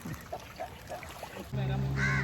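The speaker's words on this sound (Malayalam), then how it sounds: "ബോട്ട് വന്നുകൊണ്ടിരിക്കുന്നുണ്ട് ബോട്ട് വന്നുകൊണ്ടിരിക്കുന്നു" A boat approaches over the water toward the island of Thuruvanam in Maranchery, its steady low engine drone swelling in suddenly after voices talk quietly near the start.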